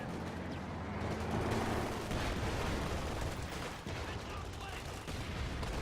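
Anti-tank gun fire in Company of Heroes 2, sounding as repeated sharp gunshot bursts in a dense, continuous battle din with other gunfire and rumbling, loud throughout.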